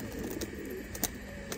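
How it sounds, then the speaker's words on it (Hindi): A pigeon coos softly in a loft at night, low murmuring calls at a moderate distance beneath steady background hum, with no talking. "आकाश भाई बहुत प्यार से दिया ये कबूतर हमको"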